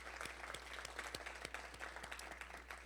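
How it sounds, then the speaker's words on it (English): An audience at a university event claps for the event staff, a steady patter of many hands with distinct individual claps, moderately distant and soft. "Can we give them a round of applause?"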